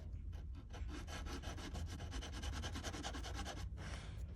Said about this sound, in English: You can even take a small file and just kind of come in and clean this up